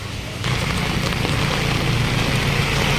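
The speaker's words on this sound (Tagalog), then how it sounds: "ang lakas ng ulan, no?" Heavy rain pours down at the Burautan fish port, a dense, steady hiss that starts abruptly and then holds loud and constant to the end.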